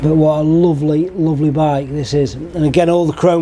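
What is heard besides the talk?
None of the usual background noises is heard.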